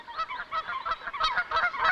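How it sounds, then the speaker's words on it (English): Several Canada geese honk loudly in a rapid, overlapping series of nasal calls, close by. "Canada geese have a rather different display, stretching their long necks and honking loudly."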